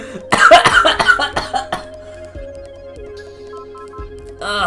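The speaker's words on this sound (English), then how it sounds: "Sorry about that cough." A person coughs in a harsh burst of several rapid hacks, close and loud, then the sound settles into quiet game music with another brief cough at the end.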